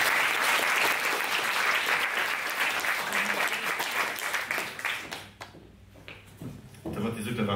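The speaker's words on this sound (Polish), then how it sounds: "Wielkie brawo." An audience at a gala final held at Google's Warsaw office applauds, with loud sustained clapping that gradually fades out near the end, followed by a voice beginning to speak.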